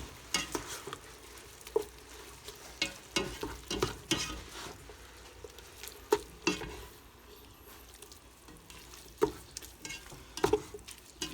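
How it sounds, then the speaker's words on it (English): Ground turkey and garlic sizzling in a pan for turkey chili while a utensil stirs, scraping and knocking at irregular intervals over a steady frying hiss, close and moderately loud, with no talk. "and I'm going to mix in the garlic"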